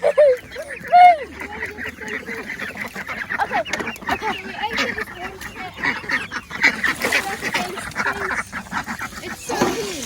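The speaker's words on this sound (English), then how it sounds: "Move, chickens." Chickens clucking and squawking on a farm during chores, busy close-up clucks and calls throughout, with a person speaking briefly among them.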